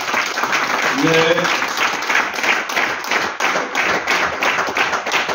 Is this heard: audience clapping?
yes